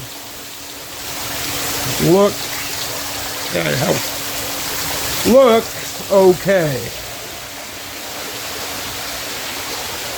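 Water flows down a garden pond water wall with a steady, even rushing hiss throughout, while a person talks briefly over it in short bursts.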